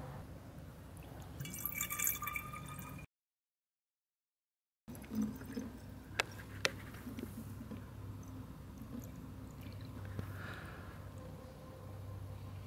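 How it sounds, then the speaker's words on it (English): Water poured into the tank of a PCP air compressor, a soft trickling fill with scattered drips, close and quiet, broken by a short gap of silence. "Fill the tank with water."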